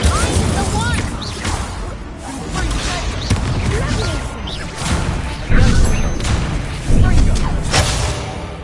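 Incendio fire spell cast in a Hogwarts Legacy duel, loud fiery bursts and crashing impacts with whooshes, several hits spread over the stretch, with game voices speaking amid the effects.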